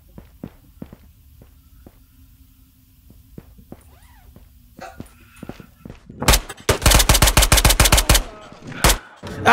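Gunfire in the VR shooter Ghosts of Tabor: after quiet footsteps and faint clicks, a loud, close volley of rapid single shots cracks out, followed by a couple more isolated shots.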